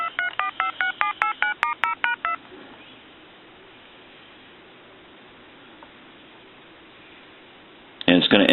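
A telephone being redialed while an original Spirit of St Louis phone is repaired gives a quick run of about a dozen evenly spaced DTMF tone beeps over faint line hiss. A short silent stretch follows, then a louder burst at the end.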